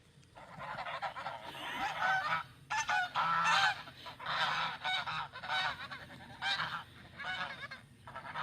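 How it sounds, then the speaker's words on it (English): Pet geese honk loudly and repeatedly at a man lying still and pretending to be dead, their harsh overlapping calls coming in bursts close by with brief pauses between them. "This guy wanted to see what would happen if he pretended to die in front of his pet geese."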